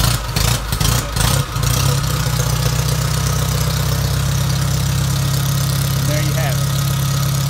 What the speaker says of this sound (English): It runs real good with no smoke.